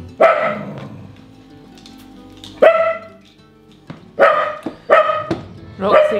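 A dog named Roxy barks at a far-off tractor in a field, giving several loud, close barks in separated bursts, with a quiet pause between the first few and a closer run of barks at the end.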